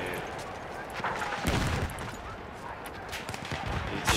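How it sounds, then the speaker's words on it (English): Enemy machine gun fire in the World War I shooter Battlefield 1, dense rapid bursts of gunfire and explosions layered over loud game noise, with a player shouting over the din. "That's an enemy machine gun!"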